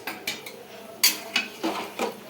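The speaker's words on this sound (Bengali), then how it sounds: "ওটা একটু খুন্তি দিয়ে নাড়া না।" A spatula scraping and clinking in a pot of chicken curry, several short metallic scrapes and knocks spaced irregularly, close and fairly clear with no talking.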